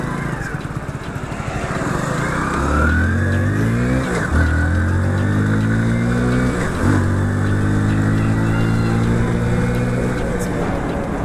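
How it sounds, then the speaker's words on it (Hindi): A motorbike engine starts and revs up, its pitch climbing through several rising sweeps with brief drops between them, loud and close throughout. "अभी बाइक को स्टार्ट और निकलते हैं घर के लिए"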